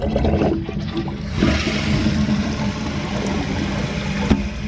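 A toilet flushes loudly and close by right after its fill valve was replaced, a rushing swirl of water that surges then settles into steady draining and refilling.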